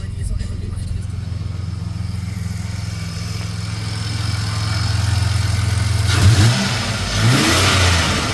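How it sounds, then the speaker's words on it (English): Turbocharged V6 Ecotec engine with about 262,000 km on it, holding a steady loud drone that builds as it revs, then rising surges with fluttering turbo chatter near the end, heard close up. "Gotta love turbo flutter."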